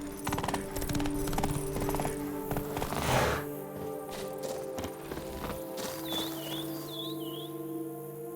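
Horse hooves clip-clop steadily in The Witcher 3 video game, a continuous mid-level trot over a bed of game music and ambience, with a brief louder swell midway and faint bird chirps near the end.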